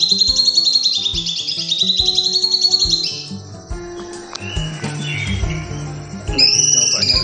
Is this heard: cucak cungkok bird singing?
yes